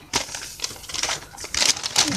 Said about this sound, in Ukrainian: далі я замовляла отакі паперові пакети